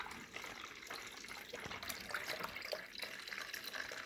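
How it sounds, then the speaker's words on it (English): Black raspberry juice pours from a clamped hose out of a tipped pan, giving a faint, steady trickle and splash of liquid that runs alone throughout. "tip the pan a little to get it started, and out comes the beautiful black raspberry juice."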